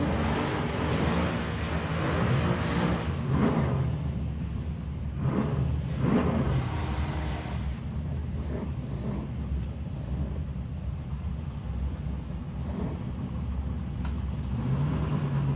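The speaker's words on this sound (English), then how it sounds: "Dutchy Holland out there now in the Holden HQ1 tonner. 350 Chev power." A Holden HQ one tonner race car with a 350 Chev V8 at a raceway, its engine rumbling from a distance with a steady low drone and a few rises in revs.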